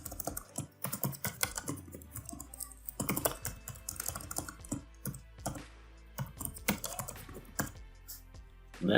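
Someone types a password on a computer keyboard in quick, uneven bursts of close, crisp key clicks, with short pauses between runs and no talk.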